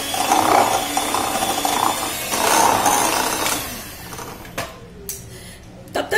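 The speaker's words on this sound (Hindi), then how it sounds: "तब तक बीट करना है जब तक इसके पूरी घुल न जाए शक्कर" Sugar being beaten into cake batter for an almond tea cake, heard as a steady, loud mechanical whirring and rattling of a mixer that fades out partway, followed by a few brief knocks.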